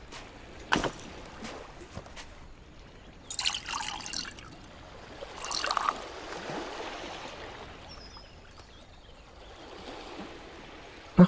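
Water being poured and trickling in the game The Last Plague: Blight, with a quiet running flow broken by a few louder splashy bursts and small drips.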